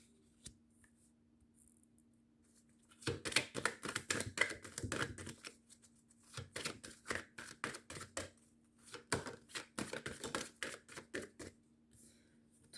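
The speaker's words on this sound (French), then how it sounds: "On va faire un tirage en 9 cartes" Oracle cards are shuffled and laid out in brisk, crisp riffling flurries, close and fairly quiet, with pauses between bursts in an otherwise still room.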